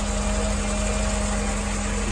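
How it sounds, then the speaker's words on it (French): A 1988 Mercedes 560 SL's big engine idling steadily, a low even hum with a faint whine, close by and alone. "un gros moteur qui tourne très bien."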